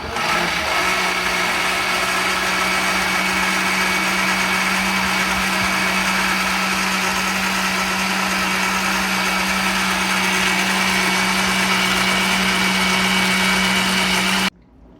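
Blender pureeing hot homemade tomato sauce from fresh garden tomatoes, basil and oregano, jar only half full with the lid held down: a loud, steady motor whine runs without a break for about fourteen seconds, then cuts off abruptly.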